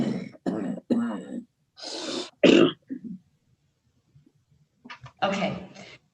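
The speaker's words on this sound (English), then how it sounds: "If you need to cough, we'll just pause and you go ahead." Several coughs and throat clearings from a person in a courtroom-style remote plea hearing, coming in short bursts with pauses between them.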